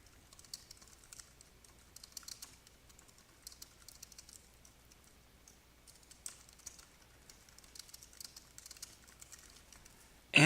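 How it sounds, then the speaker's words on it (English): Light, steady typing on a computer keyboard, quick key taps in short irregular bursts across the whole stretch, fairly quiet and close, with no talking. "Simply type in a solution request here."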